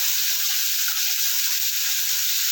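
Chopped onion hits a hot frying pan with chicken and sizzles loudly and steadily, a dense bright hiss that holds without pause.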